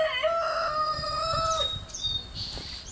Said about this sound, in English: darn roosters